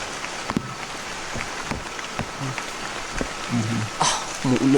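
Steady patter of rain falling, a soft broadband hiss with scattered drop taps and brief voices mixed in.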